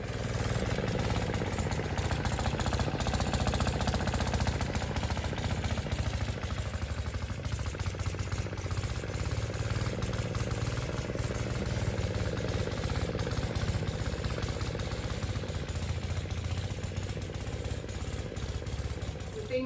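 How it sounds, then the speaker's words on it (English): A steady lawnmower engine drone runs throughout, loud and continuous as it is pushed across a rural Australian backyard, with no pauses or voices. "he's pushing the lawnmower through the backyard"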